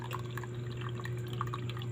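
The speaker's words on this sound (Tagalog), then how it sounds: "Tingnan na naman guys ang tulo ng tubig namin" Water drips steadily from a tap in quick, irregular drops over a constant low hum, with no voices.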